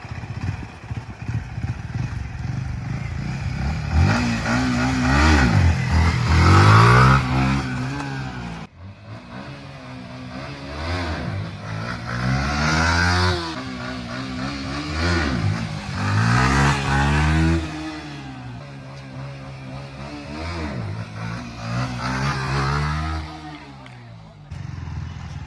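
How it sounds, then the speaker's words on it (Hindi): A Yamaha MT-15 motorcycle revs hard and repeatedly during wheelie practice, the close engine note rising and falling in several loud surges across the clip. "अब मैं आपको करके दिखाता हूँ एक व्हीली"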